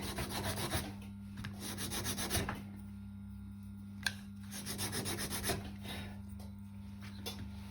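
Rhythmic rubbing strokes of sandpaper on the wooden body of a bağlama saz, repeated in bursts with short pauses, close and fairly quiet, with a steady low hum underneath.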